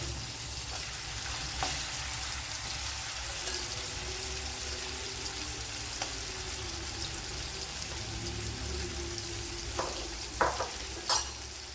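Soya chunks frying in oil in a flat pan, a soft continuous sizzle with faint stirring and occasional small pops and clicks near the end, close and without talk.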